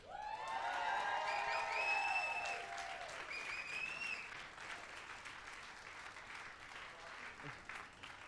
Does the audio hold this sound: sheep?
no